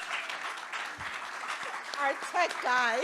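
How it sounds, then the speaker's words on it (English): Audience applause at an accelerator demo day for the event's tech support person, a fairly brief burst of clapping that runs under someone speaking, with his voice rising over it toward the end. "a round of applause for Connor"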